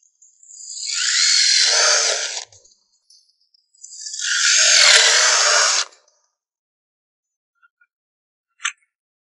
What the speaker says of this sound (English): Now let's go ahead and drill this demonstration piece.